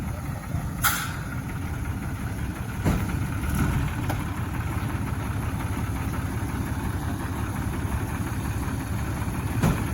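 Kubota U50 excavator engine idling nearby, a steady low rumble with a few brief knocks and clanks, no talking.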